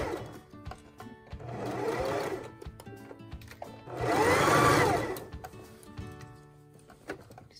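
A sewing machine stitches a sleeve onto a dress from the dress side in two main runs, with quieter gaps and small clicks between them. The sound is close and mechanical, with no talking.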